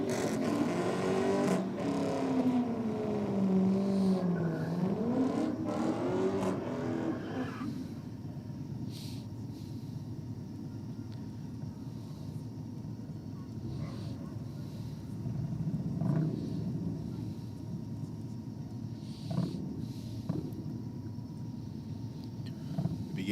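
Ford LTD and BA Falcon drag racing down the track, a loud engine roar climbing in pitch for several seconds before dropping away into a steady distant rumble.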